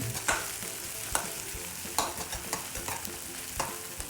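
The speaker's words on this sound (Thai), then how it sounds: "พอน้ำมันเริ่มร้อน ใส่เครื่องที่เราโขลกเราน้นนี้ลง ไป ผัดคลุกเคล้าให้มีกลิ่นหอม" Pounded spice paste stir-fries in hot oil in a wok for seafood instant noodles, a soft steady sizzle punctuated by sharp scraping spatula strokes at irregular intervals.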